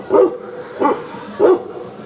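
A dog waiting outside a restaurant barks three times in a row, evenly spaced, close by and loud against faint background ambience.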